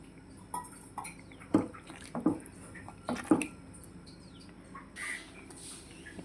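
A little water poured into thick chana masala in a pan over a low gas flame, heard as a few splashy drips and clinks against the pot, with a brief wetter sizzle near the end.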